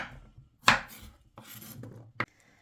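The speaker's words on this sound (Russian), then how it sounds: "Срезаем хвостики." A kitchen knife trims the ends off zucchini on a board, three sharp separate cuts spaced about a second apart, close and clear against near silence.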